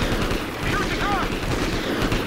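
Rapid gunfire at enemy turrets in Call of Duty Ghosts rattles as dense automatic bursts, with a voice talking over the steady barrage.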